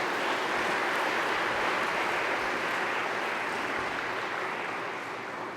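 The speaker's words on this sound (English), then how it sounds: "Let's give him a round of applause for that." Steady applause from an audience at a Jesuit theological school lecture honouring a Cardinal and Archbishop, a dense, even wash of clapping lasting several seconds and easing slightly at the end.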